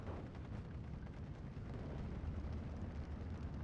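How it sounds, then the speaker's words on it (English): Artillery shells exploding in Steel Division 2, a faint continuous low rumble of distant impacts and booms rolling together without clear separate blasts. "As all of these artillery pieces start flying."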